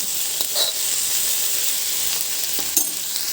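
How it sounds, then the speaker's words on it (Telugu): Okra deep-frying on low heat in a pan for a Telugu-style curry, giving a steady, continuous sizzle close up with a few brief pops, with no talk over it. "బెండకాయ మాత్రం టైం పడుతుంది బాబోయ్. చూడండి ఇంకా వేగుతూనే ఉంది."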